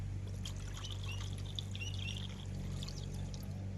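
Water is poured over freshly caught fish to wash them, a faint continuous splashing trickle with a low steady hum behind it and no voices.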